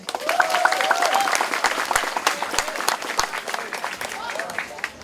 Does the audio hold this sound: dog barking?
no